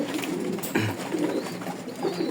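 A sick caged pigeon, being dewormed for vomiting, gives a single low coo amid a soft, hissy background with faint bird sounds around it.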